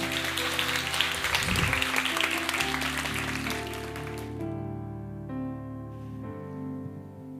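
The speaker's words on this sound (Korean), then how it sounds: "뜨거운 사랑과 축복의 박수로 맞이해 주셨으면 좋겠습니다" Church congregation clapping to welcome a speaker forward, a full crowd applause in the opening seconds that fades out as sustained organ-like tones take over and continue alone.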